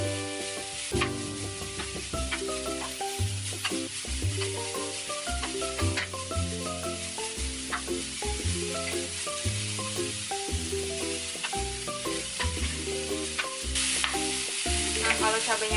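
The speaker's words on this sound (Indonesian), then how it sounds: "Jadi ini cabenya ditumis sampai layu" Chilies stir-fried in a pan for beef with chili sizzle loudly and steadily, with repeated scraping stirs of a utensil through the whole stretch.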